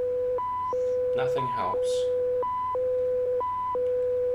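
Continuous electronic beeping from a game, a loud steady two-pitch tone alternating high and low in a regular pattern, with someone speaking briefly over it.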